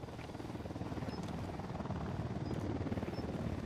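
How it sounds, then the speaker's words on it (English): Unidad helicopter flying overhead in the Ghost Recon Wildlands game, a steady rotor drone and engine hum that swells slightly and holds continuously throughout, with no voices. "we'll wait for the Unidad chopper to pass over"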